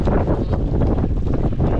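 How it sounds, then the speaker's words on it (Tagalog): Strong wind buffets the microphone outdoors near the water, a constant loud low roar with gusty rumble filling the whole stretch and no other sounds. "malakas ang hangin"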